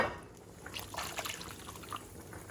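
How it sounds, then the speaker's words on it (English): Water from a mug poured into a pot of spicy Bengali-style tilapia mustard fish curry, a soft brief trickle and splashing at close range, fairly quiet. "Now we're going to add some more water."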